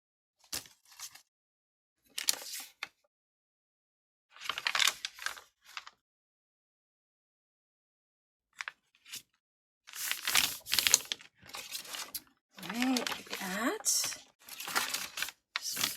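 Paper for a rustic handmade gift tag is folded and creased by hand with a bone folder: several short, close scraping and crinkling bursts separated by pauses of silence, with a voice at times.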